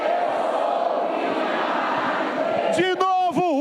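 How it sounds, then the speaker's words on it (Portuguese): A church congregation shouts together in one sustained roar of many voices. Near the end, a single voice speaks over it. "que você vai gritar: eu sou o filho amado de Deus"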